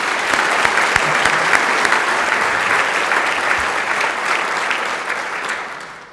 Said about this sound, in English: Let's give one more round of applause for all three